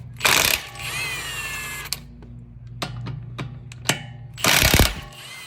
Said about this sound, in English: Take all 5 lug nuts off.